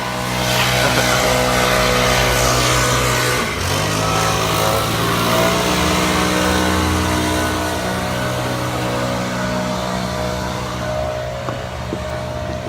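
A leaf blower runs nearby with a loud, droning motor whine, its pitch shifting as it revs and settles, then holding a sustained buzz for the rest of the span with no speech over it.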